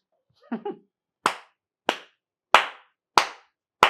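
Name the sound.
hands clapping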